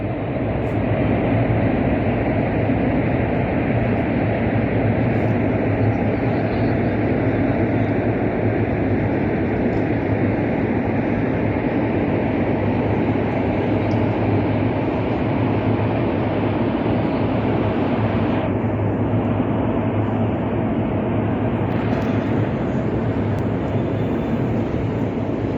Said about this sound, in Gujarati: ટ્રેન આવી ગઈ છે.